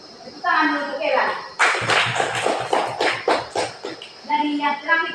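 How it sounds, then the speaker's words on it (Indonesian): A small group claps for Ella in a classroom, a few seconds of brisk uneven claps between stretches of talking before and after. "Tepuk tangan untuk Ella"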